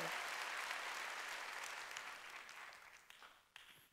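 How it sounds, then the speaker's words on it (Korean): A church congregation claps together at a Sunday worship service, a dense, loud wash of applause that fills the hall, then slowly thins and fades out toward the end with a few last scattered claps. "박수로 하나님께 영광을 돌려야 된다는 거예요."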